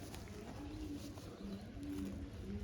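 Indian lakhi pigeons coo repeatedly in low, rolling phrases, soft and fairly close against a quiet background with no talk.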